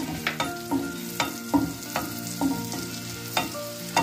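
Green onion whites fry in melted butter, with a close sizzle under repeated rhythmic knocks and scrapes of a spatula stirring the pan, roughly twice per second, and no voices.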